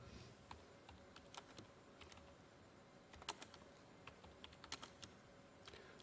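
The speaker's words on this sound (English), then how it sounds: "I think someone in the background didn't like what I was typing" Someone types on a computer keyboard with quick, uneven clicks and taps, steady for several seconds at a modest level with a few sharper keystrokes standing out.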